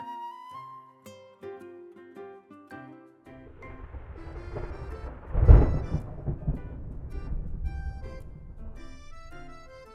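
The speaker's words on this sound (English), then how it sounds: "That sounded like thunder." A loud rumble of video game thunder breaks in midway over soft tonal music, then rolls on with rain-like noise beneath the melody.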